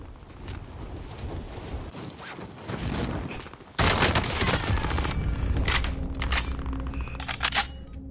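Gunfire in a military shooter video game rattles in bursts and single shots, growing louder midway with sustained firing and scattered sharp reports, heard alone without talk.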